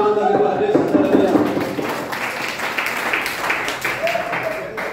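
A church congregation breaks into scattered applause after a sermon passage, moderate clapping mixed with voices and room noise, fading slightly toward the end.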